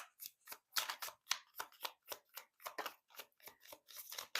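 Tarot cards shuffled and drawn during a reading: a quick run of crisp card flicks and slaps, about a dozen short bursts in an uneven rhythm, close and fairly quiet with no talking.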